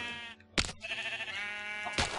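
Sheep bleating in Minecraft, a loud close wavering bleat that starts about half a second in and runs to the end, with short bursts of noise at the start and end.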